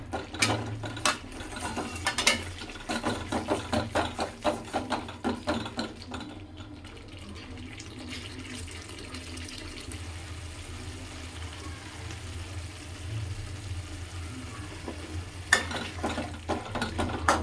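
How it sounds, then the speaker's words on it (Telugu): Fish curry frying in a pan, stirred with quick rattling scrapes of a ladle at first, then easing into a steady low sizzle before a last scrape or two, close up and with no talking. "ఒకసారి మళ్ళీ ఇలా కలుపుకున్నాక కొద్దిగా వేగనివ్వాలి"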